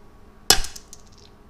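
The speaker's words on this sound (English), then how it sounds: "put it on there, and hammer it out just like this" A single sharp metallic strike of a hammer on a long extension, knocking out a small metal cap during an Evo X clutch install, close and crisp, with a brief ringing clink trailing off into quiet.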